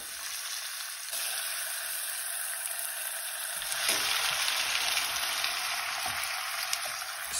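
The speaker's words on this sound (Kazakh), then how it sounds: "Қуырылған іш майымыздың үстіне етімізді саламыз." Meat hits rendered fat in a pan for Kazakh kuyrdak, and a steady, fairly loud sizzle swells after it goes in, crackling continuously without speech.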